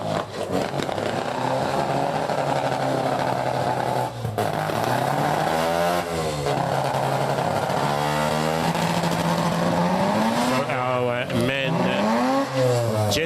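Stockcars racing around an oval track, engines roaring loudly and continuously with rising and falling revs as cars pass close by, speech mixed underneath.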